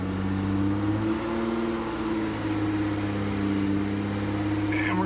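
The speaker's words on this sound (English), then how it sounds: "Start it, hold the RPMs at" A 2002 Acura TL-S engine runs steadily at a held 2,000 RPM, a constant close hum with a faint higher whine near the end.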